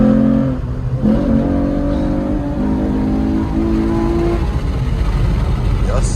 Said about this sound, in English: Y'all see that acceleration,